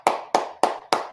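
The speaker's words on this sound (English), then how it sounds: "All right, clap it up." Four evenly spaced sharp hand claps, close and loud, each ringing out briefly before the next.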